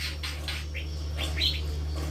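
Young white-rumped shama chicks chirp inside an aviary cage, a series of short, bright tweets coming in quick bursts over a steady low electrical hum.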